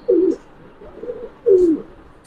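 Damascene pigeons at a pigeon farm cooing loudly and close by, two distinct rolling coos with a softer murmur between them.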